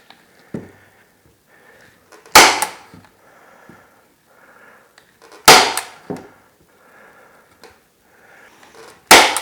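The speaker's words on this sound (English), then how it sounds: "We want to staple right on the end there." A staple gun fastening flywire onto a wooden transom insert during an 1880s house renovation: three sharp, close snaps spaced a few seconds apart, with faint handling rustle between them and no talking.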